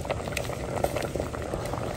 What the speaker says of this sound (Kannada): ಇವಾಗ ಚೆನ್ನಾಗಿ ಕುದಿ ಬರ್ತಾ ಇದೆ ಇದು.